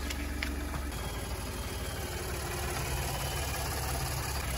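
A Ford F-150 Lariat with the 3.5-litre V6 EcoBoost engine idles steadily after a jump start, a low constant hum heard close by with a few faint knocks and no talk.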